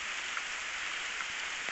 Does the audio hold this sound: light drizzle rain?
yes